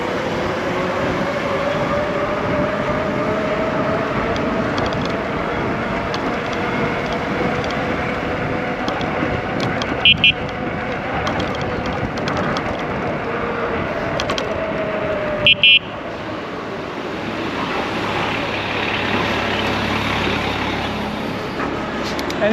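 A Wallke H6 folding two-seater e-bike with a powerful dual-battery motor accelerates, giving a steady, loud rushing drone of motor and road noise with a couple of brief sharp clicks, with no talk over it.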